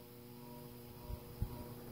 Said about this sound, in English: with every revolution the motor makes, it makes a very unique humming sound